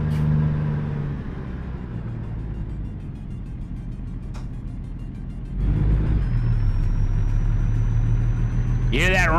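A low, steady engine rumble from a heavy truck in the video game American Truck Simulator, growing louder partway through, with a rising whine near the end.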